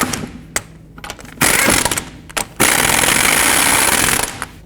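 Torque wrench tightening front wheel lug nuts on a 2007-14 Chevy Silverado pickup, with sharp ratcheting clicks in short bursts followed by two long, loud continuous stretches of mechanical grinding.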